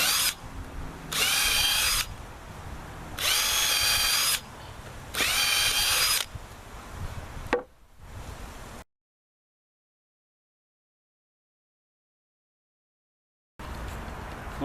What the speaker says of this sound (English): I'm going to drill these.